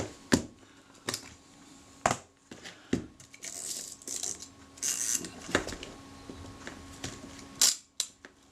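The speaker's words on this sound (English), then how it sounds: "and we have a shutter that works" Several sharp mechanical clicks from a Voigtlander Bessamatic camera shutter at irregular intervals, close and crisp, with a few brief rustling handling noises between them; no talking.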